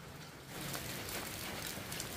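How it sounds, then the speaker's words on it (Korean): Rain patters steadily on a tin roof at a rural mountain home, a soft, even, dense drumming that grows slightly fuller after the first half second and continues unbroken with no voices. "그냥 양철에 비 떨어지는 소리도 듣기 좋네요."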